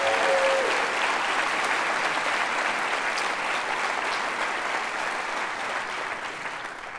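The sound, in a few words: audience applause at State of the City speech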